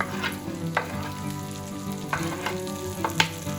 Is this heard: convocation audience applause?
no